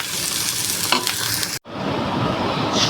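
Onions frying in oil in a pan for rui fish curry, a loud continuous hiss and crackle up close, cut by a short break partway through, with no voices.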